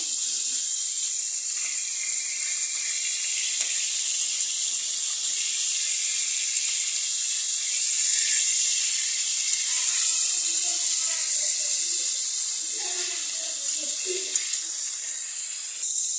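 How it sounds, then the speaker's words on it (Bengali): Fish frying in oil in a kadai, giving a steady bright hiss of sizzling that runs unbroken and fairly close, with faint voices talking quietly underneath toward the end. "আর 2-3টের মতন এদিকে ভাজা হচ্ছে"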